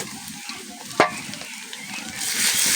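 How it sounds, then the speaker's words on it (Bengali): Ginger paste is stirred into onion and garlic frying in a pan, giving a brief scrape and clack over a soft sizzle that swells toward the end, close by and without talk. "আদা বাটা দিয়ে দিয়েছি, ভালো করে মিশিয়ে নিব পেঁয়াজ আর রসুনের মধ্যে"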